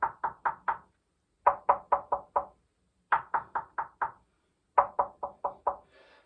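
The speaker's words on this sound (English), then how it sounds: "I just want to do my pretty typical knuckle test" A knuckle raps on a loudspeaker cabinet in four quick bursts of four or five sharp knocks each, close and dry, separated by short pauses, with no voice.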